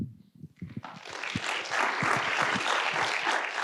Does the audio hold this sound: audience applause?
yes